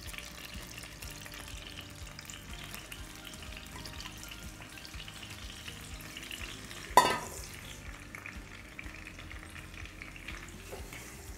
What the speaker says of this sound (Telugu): ఈ మసాలా నూనెలో మంచిగా ఫ్రై అవ్వాలి, పచ్చివాసన పోయేంత వరకు కుక్ చేసుకోవాలి.